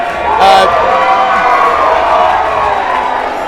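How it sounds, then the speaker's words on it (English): Crowd cheering and applauding at a campaign election-night party, a loud sustained roar with shouts, under and around speech. "we got some applause in the back, as you can hear right now"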